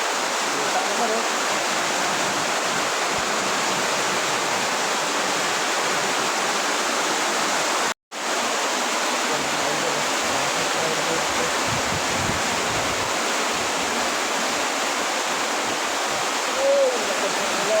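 Heavy rain pours continuously in a rural setting, a loud dense hiss like rushing water holding steady throughout, broken by one abrupt moment of silence midway.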